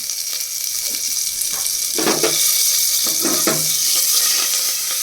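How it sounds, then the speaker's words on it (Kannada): Water pours into a hot pan of mustard seed and curry leaf tempering for a bean saaru, with a hissing, sizzling rush that swells after a couple of seconds and stays loud to the end. "ನೀರು ಹಾಕ್ತಾಯಿದ್ದೀನಿ"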